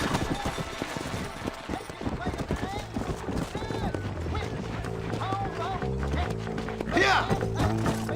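Horse hooves clip-clop at a run in Red Dead Redemption on PC, rhythmic and steady, with game music and effects underneath and people talking over the action.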